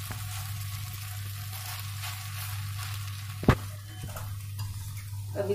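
Vermicelli upma cooking uncovered in a pan, a soft steady bubbling and stirring with a low hum beneath, punctuated by one sharp clink of a utensil against the pan.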